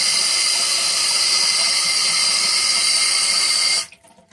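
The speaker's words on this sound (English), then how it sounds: "it does not have an aerator on it, therefore it's kind of noisy" Bath faucet with no aerator running hard, a loud, steady broadband hiss of gushing water that cuts off abruptly near the end, leaving faint room noise.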